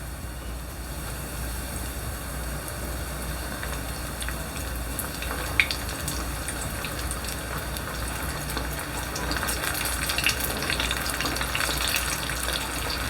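Potato wedges sizzle in hot oil, a steady, dense crackle and hiss that runs unbroken throughout, with a few brief sharper pops and a slight rise in intensity toward the end.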